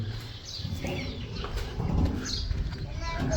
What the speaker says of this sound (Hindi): बरामदे के नीचे नन्ही मुन्नी चिड़ियाँ